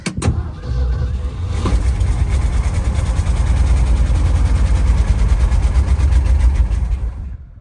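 A Ford F600 truck with a 14-ton GVW and its fuel line disconnected cranks and catches, then settles into a loud, steady, rumbling idle that runs on close by until it cuts off near the end.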